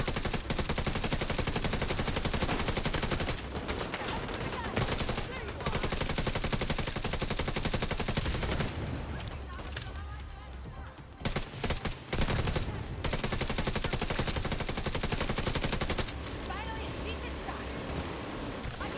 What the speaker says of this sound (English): Got a minigun here.